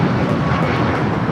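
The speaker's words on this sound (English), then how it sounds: "We just had an American Dreamliner also just touching down here on the south side" An American Airlines Boeing 787 Dreamliner touches down on the south side runway at Los Angeles International Airport, its jet roar a loud, steady broadband rush that holds without a break.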